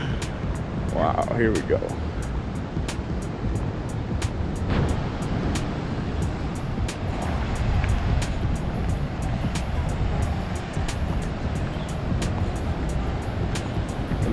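Waves hit the rocks hard along a deserted beach on Nusa Penida, Indonesia, making a loud, steady, close roar of surf that runs throughout, with a man's brief exclamation early on.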